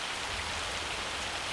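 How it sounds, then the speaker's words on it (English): Hailstorm pelting down on a farm at harvest time, with a dense, steady patter and hiss that carries on without a break, close and fairly loud, with no voices. "We are going to have to wait until this hailstorm stops for harvesting."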